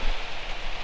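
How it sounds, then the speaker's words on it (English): Steady rain falls in a wooded hunting area on the opening day of rifle season, a continuous broadband hiss with no distinct drops standing out, with some wind. "It just began getting windy and rainy. If that's even rain, looks like rain. That's rain."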